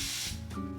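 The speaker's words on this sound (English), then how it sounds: "spray on some more water" A spray bottle mists water onto a curly wig in one quick, close hiss lasting under a second.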